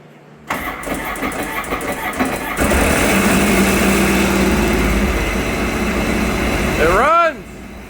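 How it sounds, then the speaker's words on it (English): A Sea-Doo GTI 130 jet ski engine cranks and fires up, then runs at a loud steady idle for several seconds before cutting off, with excited voices over the noise. "It runs! Fired right up!"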